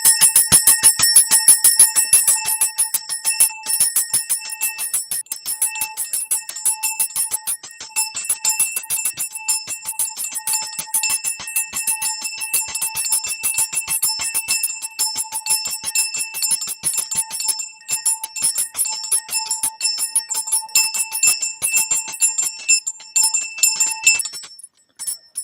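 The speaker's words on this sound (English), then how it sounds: "So we're going to end it ringing the bell for 30 seconds?" A hand bell rings continuously for about 25 seconds at the close of a show, a rapid, steady, bright jangle of metallic strikes that stays loud throughout and stops abruptly near the end.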